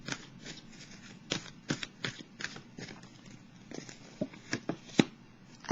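Tarot cards are shuffled by hand close by, making a series of soft, irregular riffling slaps and flicks with brief pauses, fairly quiet and without talk.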